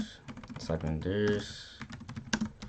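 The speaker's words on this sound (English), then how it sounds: "Let's say just type in Darius" Rapid keyboard typing, a quick run of clicky keystrokes while filling in an online account sign-up form, with a voice talking over part of it.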